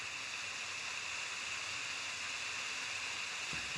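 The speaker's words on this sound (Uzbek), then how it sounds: "Sharshara." A Roblox waterfall in an icy Antarctic level gives a faint, even, continuous hiss of rushing water with a thin steady tone over it and no speech.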